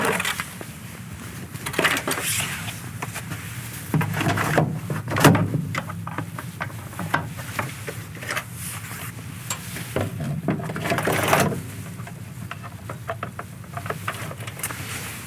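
Wheel chocks pulled away from the wheels of an articulated semi-trailer outdoors: a few scraping knocks and clunks, one louder around the middle, over steady background noise.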